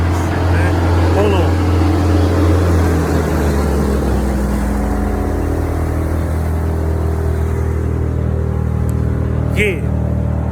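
A big old truck's engine rumbles past at close range, a loud, heavy low drone that builds and then recedes, with a voice faintly heard over the passing vehicle outdoors.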